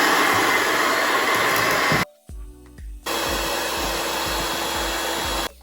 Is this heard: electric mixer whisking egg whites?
yes